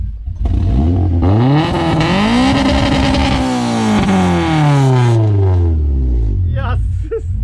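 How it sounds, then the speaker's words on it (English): Modified car with an aftermarket exhaust revving hard at a Durban street car meet, rising and falling in long sweeping revs that stay loud and close throughout, with voices briefly audible near the end. "Rev it, boss. Rev it."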